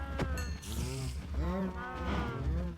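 Cows in the Minecraft video game moo in several low, drawn-out calls close together over steady background game sounds.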